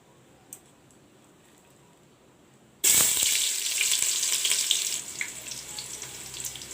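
Chopped onions dropped into hot oil already used for frying soya chunks burst into a loud, steady sizzle after a quiet start, the hiss staying strong and close to the end.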